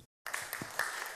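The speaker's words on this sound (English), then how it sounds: "Give her a round of applause." Brief burst of applause from a crowd, faint and distant, starting abruptly after a short silence.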